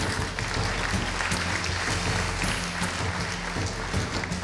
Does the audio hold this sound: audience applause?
yes